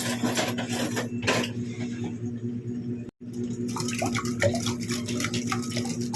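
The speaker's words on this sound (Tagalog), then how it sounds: "Haluin lang po natin siyang maigi." Barbecue marinade is stirred by hand in a bowl, giving a wet, scraping, churning texture with short splashy strokes. A steady low hum runs underneath and there is a brief pause midway.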